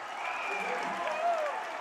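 Crowd at a high school basketball game in Dixie roars and cheers after a made half-court shot, a broad sustained wash of voices and applause held steady and loud throughout.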